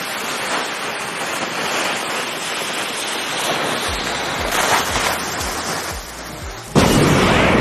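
A loud, sustained roar of rumbling noise like a cannonball explosion, with a second sharp burst near the end; no talking.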